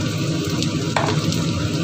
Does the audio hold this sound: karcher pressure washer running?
no